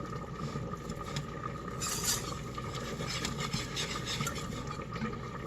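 A whisk scrapes and stirs a roux of butter and flour in a pot, a steady soft rasping churn that carries on without pause and without talk.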